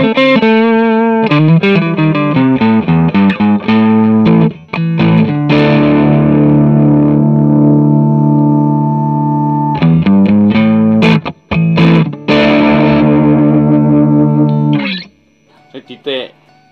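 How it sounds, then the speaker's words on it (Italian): An American Fender Telecaster electric guitar played through crunch distortion rings out in loud, close chords and sustained notes, strummed and let ring with brief pauses, ending in a fading decay. "Sentite il bel crunch che tira fuori questa chitarra"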